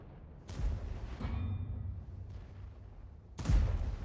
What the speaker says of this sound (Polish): Kolejny strzał, kolejny strzał również odbity.